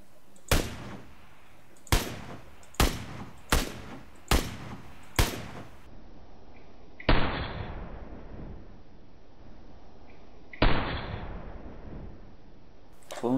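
Gunshots from an SKS rifle in PUBG Lite: nine loud, sharp reports, six in a fairly even series about a second apart, then three heavier booming shots with long decaying tails.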